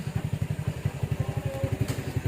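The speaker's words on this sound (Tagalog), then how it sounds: "Wa nag-andar ang motor ni Mario." A Yamaha Mio motorcycle engine being started, a rapid, even series of close chugging pulses running throughout the short moment, with no voices.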